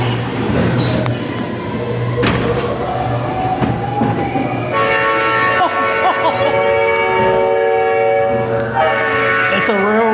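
On a two-story haunted dark ride, railroad-crossing and train sound effects play loudly: a rumbling rail-car roll with a sustained horn-like tone and clanging bell, while riders talk and exclaim over it.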